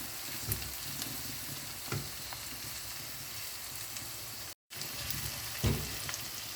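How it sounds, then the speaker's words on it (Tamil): Ginger and garlic paste sautéing in a pan for gongura chicken curry, giving a steady close frying sizzle with a few soft stirring knocks and one brief dropout. "இதுவும் வதங்கட்டும்"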